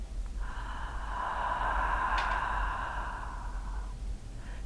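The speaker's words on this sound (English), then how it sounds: "Exhale." A long, slow exhale pushed out through the mouth during a calm breathing exercise, one soft steady breath lasting several seconds, close and quiet.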